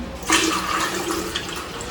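Kombucha pours in a gurgling stream into a jar, splashing briefly at the start then flowing steadily close by.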